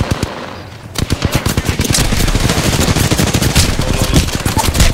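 Rapid automatic gunfire from the video game Apex Legends, loud sustained bursts of closely spaced shots that start after a brief quieter moment and run continuously to the end, with no talking.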